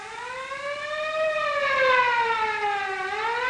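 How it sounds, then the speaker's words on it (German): A loud wailing alarm siren sounds for a firing drill at a military fire-control post, its tone rising and then slowly falling in one long sweep, heard alone without voices. "Alarm! Klar zur Schießübung."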